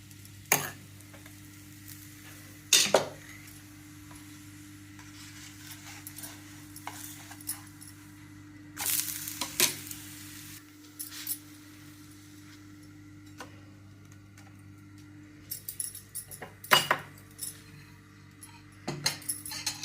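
Lemon being stirred into a sizzling mixture in a pan for masur dal dosa, a faint steady sizzle broken by scattered sharp spoon-on-pan clinks and scrapes.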